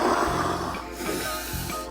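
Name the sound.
voice imitating breathing through scuba diving regulator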